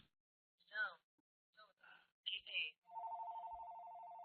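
A telephone rings with a sustained electronic tone that pulses steadily near the end, preceded by a few short sighs and vocal sounds; fairly faint overall.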